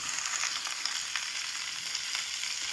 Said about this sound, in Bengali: খুব ভালো করে মশলাটা ভেজে নিন